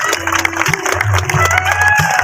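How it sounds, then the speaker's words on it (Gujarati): A crowd at a family felicitation gathering in Surat applauds and cheers to welcome Rameshbhai onto the stage, a steady wash of clapping with some sustained tones and voices mixed in. "રમેશભાઈને જોરદાર તાળીઓથી વધાઈ લઈએ"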